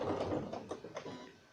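Sewing machine stitching a seam on a Christmas stocking lining, a short quiet run of rapid mechanical clatter with a few distinct needle strokes, fading toward the end.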